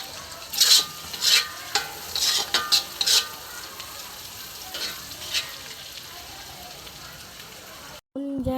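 Vegetables stir-fried in a pan, close bursts of sizzling and scraping in quick clusters, then a steady quieter hiss, with a voice heard briefly.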